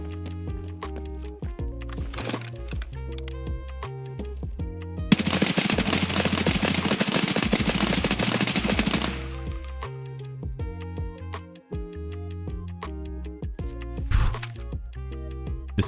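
Sustained full-auto rifle fire in Escape from Tarkov, a dense four-second burst at a high cyclic rate, loud and close, set between scattered single clicks and metallic gear sounds with a steady background hum.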